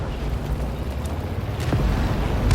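Artillery fire explodes in a World War II Operation Overlord video game, with several deep booms and sharp cracks over a rumbling battlefield background.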